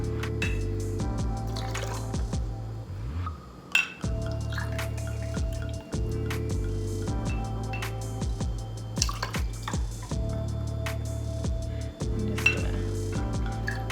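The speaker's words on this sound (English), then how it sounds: "we're gonna put 3 ounces of our rosé on top" Rosé wine poured over ice into a glass for a herbes de Provence sangria, with steady liquid trickling, dripping and light clinks of ice throughout.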